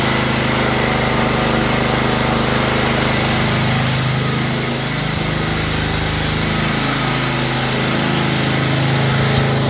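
An old lawn mower engine, bought new thirty years ago and freshly serviced, runs with a loud, steady droning rumble close by, holding a constant pace without pause.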